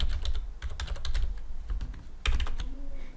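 Rapid clicking of keys on a computer keyboard, a steady burst of typing with short pauses, close and fairly clear.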